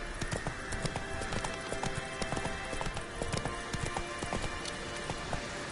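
Roach, Geralt's horse in The Witcher 3 video game, gallops steadily, with a fast rhythmic clip-clop of hooves loud and close throughout.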